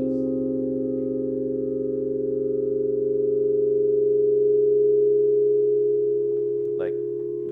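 A sustained, smooth synthesizer pad from a Roland Juno analog synth holds a steady tone with a soft reverb wash, with a brief rising chirp near the end.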